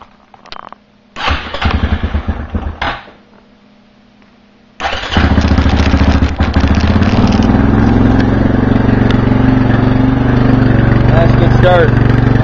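A 2005 Suzuki LTZ250 ATV engine cranks in a couple of short bursts with pauses, then catches and settles into a loud, close, steady running idle; a voice speaks near the end.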